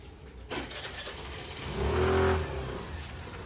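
A car is heard nearby at night: a dull thud, then the engine rises and revs for a moment before settling into a steady hum.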